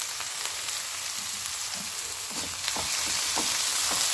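Chopped onions, green chili and curry leaves sautéing in a pan, a steady close hiss of frying oil with occasional soft stirring scrapes throughout.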